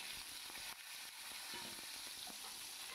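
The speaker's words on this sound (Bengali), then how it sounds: "বেগুনটাকেও আমি হালকা করে ভেজে নেবো, খুব বেশি ডিপ ফ্রাই করব না।" Thick eggplant pieces fry lightly in oil with black cumin for a spicy Bengali bhetki fish curry, making a faint, steady sizzle with soft stirring movements and no voices.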